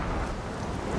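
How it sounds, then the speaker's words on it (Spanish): Thunder from a huge storm sweeping over the sea, heard as a brief dull rumble blended with steady rain-like hiss, fairly faint and unbroken. "cuando una enorme tormenta arrastró una balsa de árboles enredados hacia el mar"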